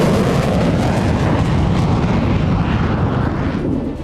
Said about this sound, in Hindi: फाइटर जेट की गर्जना से दहल गया लेबनान।